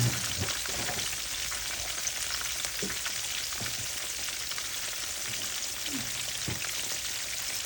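Fish frying in oil outdoors gives a continuous soft sizzle and crackle, fairly quiet and even, with a few small pops scattered through and no talk.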